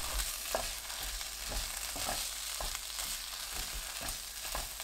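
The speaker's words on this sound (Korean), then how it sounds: "골고루 섞이면 중불로 켜고 20초 볶아주세요." Shiitake mushrooms are stir-fried with doenjang over medium heat: a soft, continuous sizzle is broken up by repeated rhythmic scrapes and clacks as the mixture is tossed in the pan. No voices are heard.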